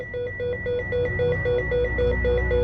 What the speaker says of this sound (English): There's a European phone going off.